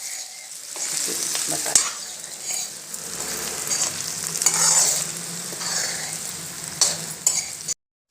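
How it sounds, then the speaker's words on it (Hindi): Potatoes stir-fried in a pan with spices, a continuous sizzle broken by repeated scraping and clattering spatula strokes, close and moderately loud, with a single brief spoken word before it cuts off abruptly. "आलू, हम आलूओं को भी अच्छे से भून लेते हैं"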